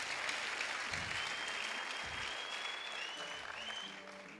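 Congregational clapping fills a Rwandan evangelistic church service, a dense continuous round of applause with two soft low thumps early on and a thin tone sliding through the middle.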